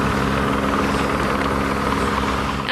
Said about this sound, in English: The helicopter came in, connected the bug, and then slowly lowered it from the mountain.